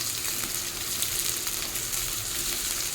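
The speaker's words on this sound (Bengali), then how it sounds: "পেঁয়াজের সঙ্গে পটলটাও ভাজতে থাকবো।" Pointed gourd and chopped onion fry in hot oil with a dense, continuous crackling sizzle, close and steady, with faint stirring and no voices.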